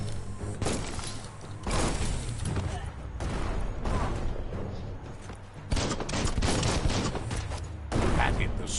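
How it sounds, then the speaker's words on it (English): Bomb lobber weapon blasts in the video game Biomutant: loud, repeated explosive bursts and crackling impacts arriving in waves, dense and close, with a voice talking over parts of it. "That's a bomb lobber."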